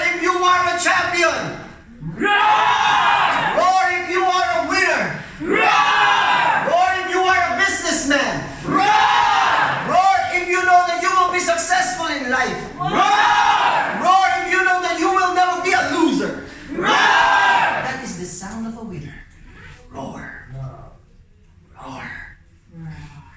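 A leadership-training audience roars in unison several times, each loud shout rising and breaking off in a regular rhythm before the last calls trail away.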